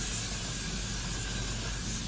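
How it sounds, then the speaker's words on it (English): A short continuous hiss of hair spray being sprayed onto hair, close and steady for about two seconds. "just spray my hair if I have any more left in there."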